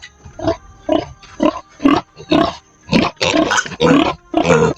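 A pig grunts close and loud in a series of about nine short, rough bursts, evenly spaced at first and then bunching together, with no talk over them.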